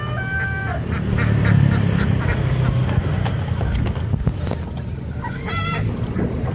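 Muscovy ducks quack repeatedly in a busy market, a mix of close and farther calls over a dense crowd hum, with faint voices in the background.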